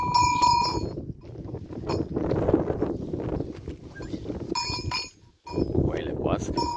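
Sheep graze with clanking bells around their necks, ringing in irregular jangles nearby while someone talks over them.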